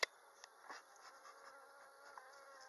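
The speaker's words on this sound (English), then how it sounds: "There's quite a few bees in the hive." Honey bees buzz in a hive as a faint, steady drone with a few soft flickers and one brief click at the start. No one speaks.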